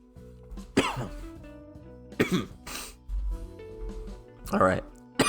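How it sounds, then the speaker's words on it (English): A man reading a news report coughs and clears his throat three times in harsh, close bursts, with brief low breathy sounds between them. "Oh, cough's wild."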